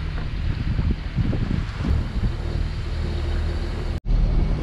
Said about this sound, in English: the wind picked up at about 20 to 25 knots